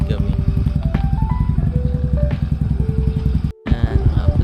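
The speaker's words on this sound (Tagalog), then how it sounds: "So mag-motor ride kami." A motorcycle rides along a road, its engine putting out a steady, loud throbbing drone with a brief cut near the end, while people talk over the ride.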